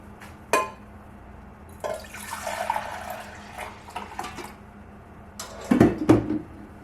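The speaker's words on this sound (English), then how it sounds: "I'm ready to pour these into my little cups now." Liquid yogurt mixture pours into small cups by hand, a soft trickling and splashing with a few brief clinks, close and fairly quiet with no talking.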